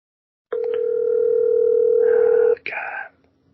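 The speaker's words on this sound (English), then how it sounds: "let's see if this person answers their phone" A phone call is placed. A steady, loud dial tone holds for about two seconds, then shifts into a short burst of dialing tones before cutting off.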